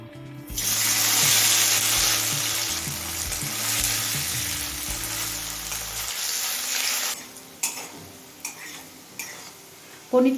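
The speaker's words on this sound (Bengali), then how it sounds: "এবার পনিরগুলো ভেজে নেব পনিরটা" Paneer pieces fry in three tablespoons of mustard oil heated on a high flame in a kadai, with a loud, steady sizzle for several seconds. The sizzle then drops away, and a few sharp utensil clinks follow.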